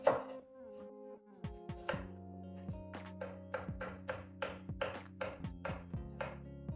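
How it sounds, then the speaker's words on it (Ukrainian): Steady knife chops on a cutting board as an onion is cut into half-rings, a rapid rhythm of sharp taps close by, with faint tonal ringing underneath. "нам зараз потрібно цибулинку невелику, середню нарізати півкольцями"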